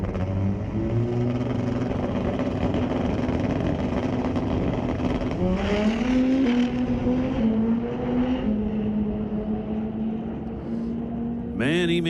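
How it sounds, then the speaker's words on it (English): A Kawasaki drag racing motorcycle makes a run down the racetrack, its loud engine droning continuously with a pitch that climbs and shifts through gear changes, over a constant roar of background noise. "Single coming up left side of the racetrack, Austin Christopher on the world's quickest Kawasaki"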